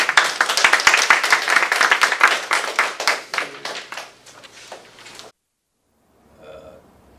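Audience applause after a business presentation, dense rapid clapping from a crowd that fades out over several seconds, followed by silence and a faint voice.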